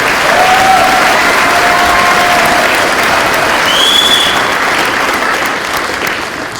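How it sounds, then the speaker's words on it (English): Sustained applause from an audience honoring the Dugway High School choir at a new school ribbon cutting, steady and dense throughout with a faint voice or whistle rising briefly above the clapping. "One more round of applause, Dugway High School Choir."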